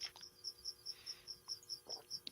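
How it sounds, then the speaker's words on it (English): Crickets in California give a steady, evenly pulsed high chirp, faint and continuous, with soft background noise and no talking. "It's your crickets doing that."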